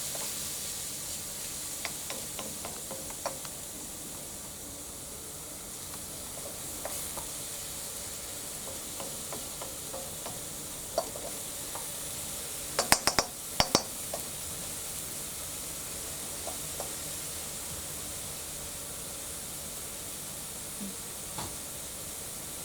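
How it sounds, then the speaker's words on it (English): Bacon strips frying in a pan for chicken and bacon carbonara, a steady even sizzle running throughout, with a few sharp clinks and scrapes of a utensil, a brief cluster of louder clatter partway through, no talking. "I'm going to fry these until they're lightly golden."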